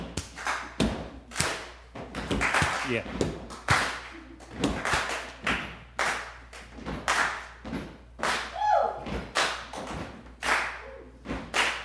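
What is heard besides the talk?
audience stomping and clapping a beat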